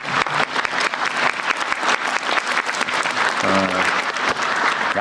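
Officials at a Korean government ministry work briefing attended by the president burst into loud, dense applause in a hall, with a brief voice rising near the end.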